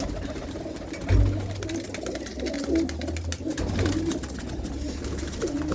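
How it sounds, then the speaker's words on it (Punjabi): Racing pigeons coo repeatedly in low, throaty burbles, close by, over faint background noise with no talking. "ਇੱਕ ਖੁੱਡੇ ਦੇ ਅੰਦਰ ਰੱਖੋ ਜੇ ਕਬੂਤਰ"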